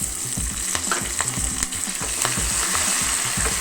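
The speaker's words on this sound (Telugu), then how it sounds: "ఒక 2 నిమిషాలు ఫ్రై అవనిచ్చి" Curry leaves and coriander fry in a pan for dosakaya chutney, crackling and sizzling steadily up close with quick popping spatters and the scrape of stirring, no voices.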